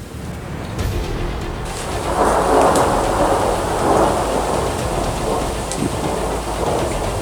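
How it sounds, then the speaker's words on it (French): Heavy rain sweeps in during a thunderstorm, building from a quieter start into a loud, steady downpour hissing on surfaces, with rumbling thunder beneath it and no voices. "On a une précipitation, enfin un rideau de pluie qui a l'air d'arriver sur nous."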